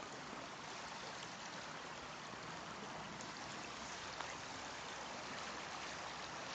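River Irk flowing near the Witt and Trub confluence, a steady broadband rush of stream water running continuously and fairly close, with no voices.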